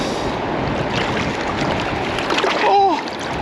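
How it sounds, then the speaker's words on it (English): Cold creek water splashes and sloshes close by during gold panning outdoors, with wind buffeting the microphone and a brief voice rising near the end. "Oh, the water just splashed my jeans."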